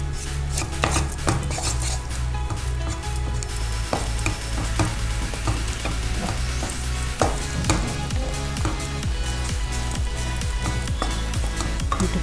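Thickening wheat-milk halwa is stirred in a pan, with a ladle repeatedly scraping and knocking against the metal over a low bubbling sizzle, busy and close throughout.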